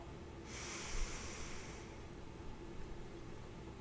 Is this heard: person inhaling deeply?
yes